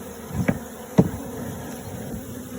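A dense, steady buzzing of a honeybee swarm close by, with a couple of soft thumps as the bees are shaken and knocked into a top bar hive.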